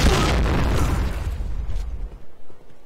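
A grenade explodes in the shooter game Point Blank, a loud, heavy boom with a long rumbling tail that fades out over a couple of seconds, heard alone with no voices.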